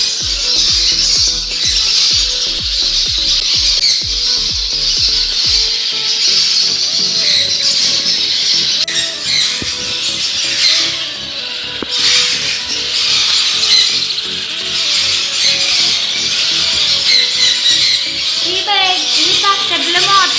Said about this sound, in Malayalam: മൊത്തം കിളിക്കുഞ്ഞുങ്ങളാണ് കണ്ട